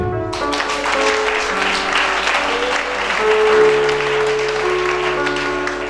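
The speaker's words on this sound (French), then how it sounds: "Acclame Jésus" A church congregation claps and cheers continuously, a loud, full round of applause filling the space with no speech on top.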